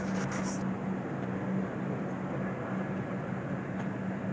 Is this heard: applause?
no